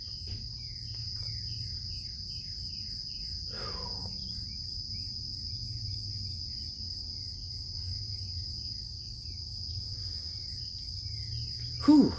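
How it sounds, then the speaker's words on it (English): Steady high-pitched cricket chirring at dawn fills the background while a few morning birds call now and then, with a low distant hum underneath. "you can hear the crickets and the morning birds"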